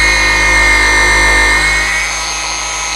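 Cordless dual-action car polisher spinning steadily under pressure, with a loud, continuous motor whir and hum that dips slightly in pitch toward the end.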